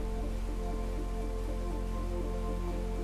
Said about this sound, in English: we switch the rain off above them